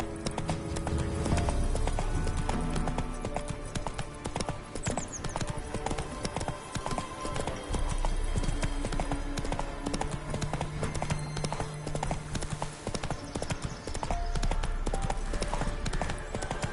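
Hooves of the horse Roach clip-clop in a steady trotting rhythm in The Witcher 3, layered over continuous game music and ambience, loud and close throughout.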